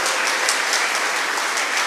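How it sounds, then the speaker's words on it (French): Steady, dense applause from a church audience at a parish jubilee celebration in Senegal, continuous and fairly loud throughout with no voices over it. "je vous invite de les applaudir"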